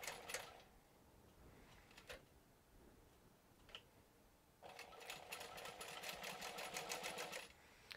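A sewing machine runs a long back stitch on a crossbody pouch panel: brief stitching bursts early on, then a sustained, steady rapid chatter of the needle for about three seconds near the end, close and clear with no talk.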